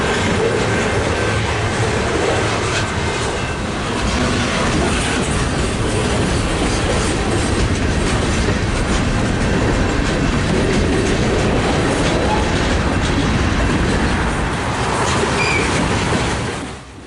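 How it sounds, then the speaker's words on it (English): A freight train with a DPU locomotive and boxcars, including a TTX waffle boxcar and an old 50-foot CP Rail boxcar, passes close by on a mountain line, a loud continuous rumble with steady wheel clatter and faint squeal. "DPU 8067 was sandwiched between a TTX waffle boxcar and an old 50-foot CP rail boxcar."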